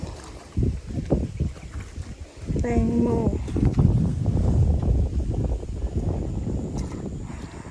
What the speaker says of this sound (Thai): ลมแรงมากนะะ